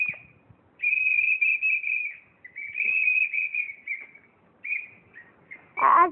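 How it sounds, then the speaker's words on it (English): A person whistles a song during a whistle challenge, producing sustained bright tonal phrases broken by short pauses. The whistling is close and clear, and a brief louder burst comes at the end. "she's going to do the whistle challenge"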